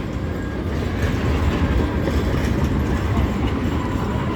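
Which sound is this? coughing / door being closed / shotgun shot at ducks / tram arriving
tram arriving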